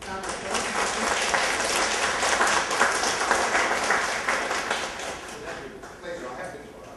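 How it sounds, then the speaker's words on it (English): An audience at a talk on budgeting in a decentralized government environment applauds the speaker, steady dense clapping that holds for several seconds before tapering off toward the end. "give him a good round of applause"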